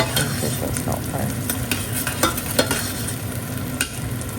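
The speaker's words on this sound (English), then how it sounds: "And then I'm going to add in my ginger and fry that up as well." Chopped ginger fries in a pan, a continuous close sizzle broken by repeated scraping and clinks as it is stirred steadily while cooking for a kidney bean curry.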